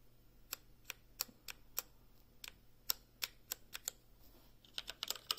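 Sharp, irregular keystrokes on a Unicomp Ultra Classic buckling-spring keyboard, each press a bright snapping clack, close-up and alone, with a quicker flurry of presses near the end.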